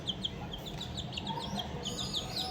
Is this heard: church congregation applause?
no